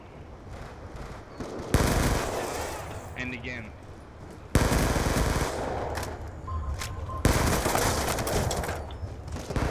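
Automatic gunfire in the shooter game Black Ops 2, three loud sustained bursts of rapid shots close by, with brief gaps between them and a voice talking under the firing.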